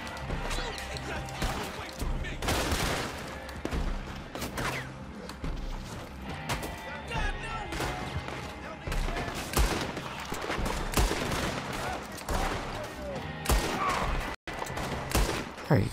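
Gunfire rings out in Red Dead Redemption 2 online bounty hunting, dense repeated shots and rapid bursts that crack loudly and almost without pause, mixed with game noise and a player talking over it.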